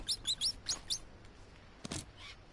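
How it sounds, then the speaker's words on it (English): Bird calls in the jungle of the Green Hell survival video game on PS5: a quick series of about five high chirps, followed by a couple of harsher squawks, fairly faint against quiet ambience. "Oh, hey, a bird."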